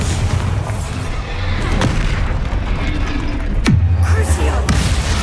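A Bombarda blasting spell detonates in the Hogwarts Legacy video game, a loud deep boom followed by rumbling blasts amid dense combat noise, close and heavy.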